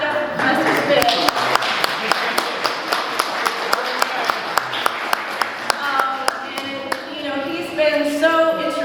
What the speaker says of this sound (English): Clap it up for Professor Smith.